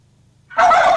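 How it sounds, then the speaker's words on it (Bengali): A domestic turkey on a farm in Naogaon, Bangladesh, gives one loud, close gobble that breaks in suddenly after a faint low hum and carries on to the end. "দেখতে ময়ূরের মতো হলেও বিশেষ জাতির এই পাখির নাম টার্কি"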